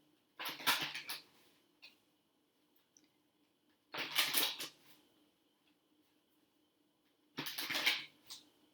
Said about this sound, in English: give these cards a shuffle